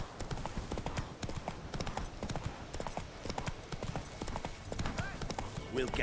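Roach, Geralt's horse in The Witcher 3, gallops with rapid, continuous clip-clop hoofbeats at moderate volume throughout.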